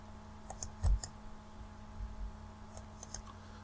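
A computer mouse gives a few soft, close clicks, scattered single taps over low room hum with no voices.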